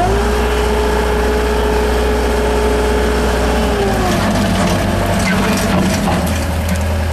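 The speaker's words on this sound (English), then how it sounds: "I'll hop in the skid loader, I'll lift her up" A skid steer loader's engine drones loud and close as it raises a Bobcat 72-inch sweeper broom attachment, with a whining hydraulic tone that drops in pitch midway, then mechanical clanks and rattles.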